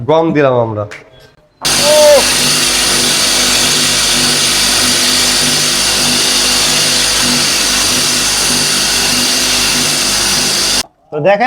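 A grain grinding mill grinds wheat into flour with a loud, steady, droning roar that lasts about nine seconds. Someone talks just before it starts and again after it cuts off.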